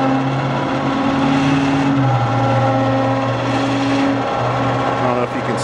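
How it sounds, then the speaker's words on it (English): Bed-mounted winch on a 1995 Ford F-150 pulls a tractor up a ramp, giving a steady, loud motor whine with a hum that shifts pitch once midway and runs continuously throughout. "So we'll go ahead and winch it in and show you what it's like."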